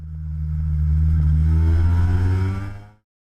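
Grand Prix racing motorcycle engine, a loud close rev that swells, holds as a steady throaty drone, then cuts off abruptly into silence.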